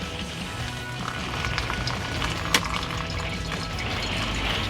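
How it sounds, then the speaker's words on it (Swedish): Water is poured slowly and carefully along the edges of a coffee filter, making a steady trickling splash with one brief sharper clink midway, heard up close inside a motorhome. "Och då häller jag ju så här lite försiktigt"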